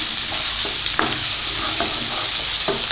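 Onions and green chillies sautéing in hot oil for Madurai kothu parotta, a steady close sizzle with occasional utensil clicks as the pan is stirred.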